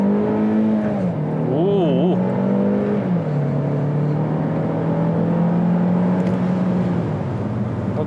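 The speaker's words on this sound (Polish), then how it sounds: "Dynamiczne przyspieszenie ze startu zatrzymanego" An Omoda car with a 197 hp T-GDI turbo petrol engine revs and pulls away hard from a standstill, its pitch rising and dropping through gear changes in a steady, sustained drone.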